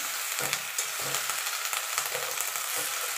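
Bottle gourd greens with turmeric fry in a pan, a steady hissing sizzle with repeated soft stirring strokes every half second or so, close and moderate in level.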